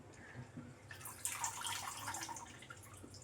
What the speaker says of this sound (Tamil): பருப்பு கழுவி குக்கரில் போட்டாச்சு.